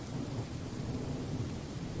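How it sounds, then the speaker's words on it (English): Rain and thunder in the video game Open Sorcery, a dense, steady rain hiss over a low continuous rumble of thunder, heard alone without talking. "It is raining."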